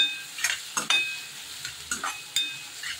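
Turmeric and garam masala stirred in hot oil in a pan: a soft sizzle broken by repeated scraping strokes of a spoon, close and steady, with no voices.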